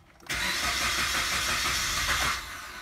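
A Suzuki Vitara fires up during an injector balance test: a brief starter crank catches into a steady running engine that holds for about two seconds, then drops to a lower hum.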